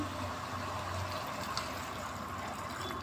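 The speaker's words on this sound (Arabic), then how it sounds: "طبعا هغليها له شويه ميه صغيرين اهو" A small amount of water, about a cup, trickles into a cooking pot of seasoned greens on the stove, a faint, soft, continuous pouring sound in a quiet kitchen.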